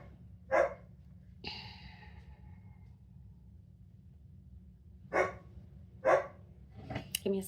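A dog barks a few times, sharp separate yaps spaced across several seconds over a low steady hum indoors, one bark near the start and a pair later on, with a short rustle between.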